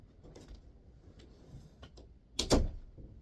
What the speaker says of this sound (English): let me close my door because I don't want anybody hearing